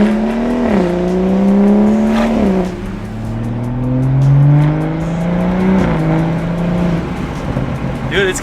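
A BMW F30 340 with an aFe full exhaust system revs repeatedly, each rise in engine pitch climbing smoothly then dropping back, loud and close, with brief speech-like sounds in the mix.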